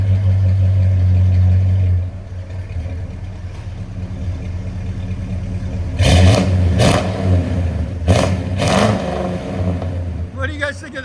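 A 1972 Chevy C10 pickup with a 350 V8, true dual exhaust and Flowmaster Super 44 mufflers, idling with a deep rumble and then revving in several loud bursts close by, with some talk between the revs.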